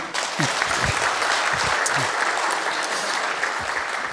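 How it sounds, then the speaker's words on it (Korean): Audience applause at a CEO forum: a dense, sustained wash of clapping from a large crowd filling the room, even and continuous throughout, with faint voices beneath. "박수 한번 다시 칠까요?"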